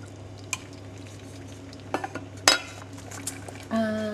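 A wooden spoon stirs and scrapes butter in a pan, with a few sharp clinks of utensils and a faint kitchen hum underneath.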